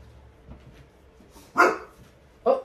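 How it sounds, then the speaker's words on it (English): A dog gives two loud, sharp barks about a second apart, close to the microphone, after a quiet indoor stretch with faint background sounds. "Don't bark. No barking, please."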